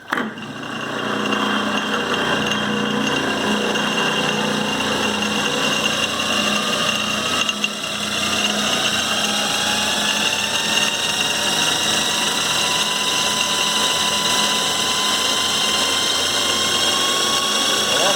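A Clausing variable speed drive runs at full speed with its clutch engaged, giving a loud, steady mechanical whine and hum that holds for the whole stretch, with slowly shifting tones as the speed changes.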